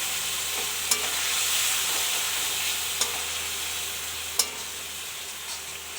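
Chilli powder and turmeric cooking down in a pan with a little water for a fish curry, a steady close hiss of sizzling with a few faint stirring taps.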